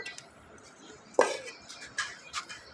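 Chicken pulao being served from a pot into a dish gives a sharp metallic clank followed by a few lighter scrapes and clinks of a spoon against metal, close and otherwise quiet.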